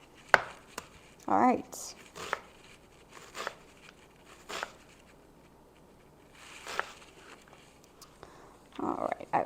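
Knife cutting poblano peppers or other taco ingredients on a board, a handful of scattered sharp taps separated by pauses, close and fairly quiet, with a voice speaking briefly.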